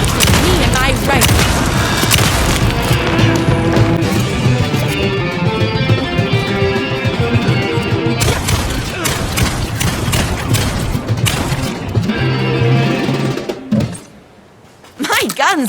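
Heavy gunfire and booming impacts from Alan Wake 2's Night Springs episode come as dense, repeated blasts through most of the stretch, with dialogue and music mixed in and a brief drop near the end.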